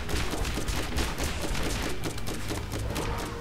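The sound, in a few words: gunfire setting an enemy on fire in the video game Borderlands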